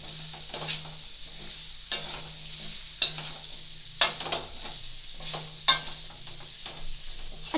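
Carrots and radish being stirred in a pan over low flame for an instant pickle, with scraping spoon strokes every second or so over a soft steady sizzle, close and alone without voices.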